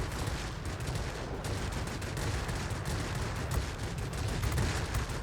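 Heavy cannon fire from a Ki-102 heavy fighter's 57 mm gun in World of Warplanes, a dense continuous barrage of booming shots with steady engine drone underneath, loud and close throughout.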